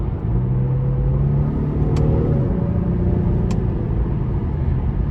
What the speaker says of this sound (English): So the shifts are pretty quick when you use the paddle shifters